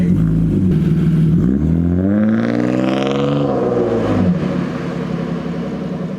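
Straight-piped BMW E36 325i inline-six revving up and settling back, its loud raspy exhaust note swelling through a rising then falling sweep before easing toward idle, heard close and without talk.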